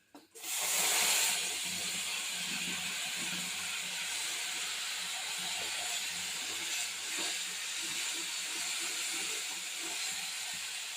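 Ginger, cumin, green chilli and dried chilli hit hot oil with panch phoron for a vegetarian dish, giving a sudden loud, steady hiss of frying that holds close and even throughout, with no talking.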